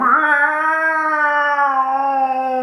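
A person imitates a cat's yowl, a long, drawn-out, wavering nasal wail held for a few seconds.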